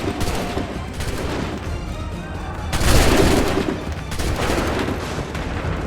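Dense volleys of musket gunfire crackle and boom in an Assassin's Creed 3 battle, sustained rattling shots with a louder burst midway, close and continuous without pause.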